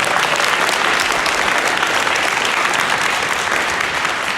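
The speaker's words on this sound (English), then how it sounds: "Let's give a round of applause for our filmmakers, please." An audience at a filmmaker Q&A gives sustained, loud applause for the filmmakers, a thick, continuous wash of many hands clapping at once without pause.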